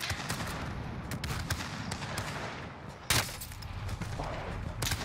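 Gunfire in a battle royale video game match: rapid bursts of shots crackle steadily at mid distance, with a louder, sharper burst about midway through.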